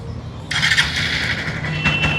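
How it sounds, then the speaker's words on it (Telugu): A Hero Xpulse 200 4V Pro motorcycle engine cranks and catches about a quarter of the way in, then settles into a steady, close running note over a low rumble, with no talking. "సో లేట్ చేయకుండా బైక్ ని అయితే స్టార్ట్ చేద్దాం."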